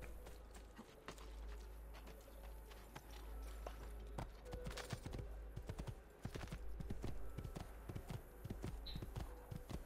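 Rhythmic hoofbeats clip-clop steadily at a walking pace in Assassin's Creed II, close and crisp, with a low constant hum underneath and no talking.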